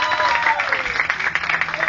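At a Cyprus DJ contest, an audience gives a short round of steady clapping while a voice speaks over the applause.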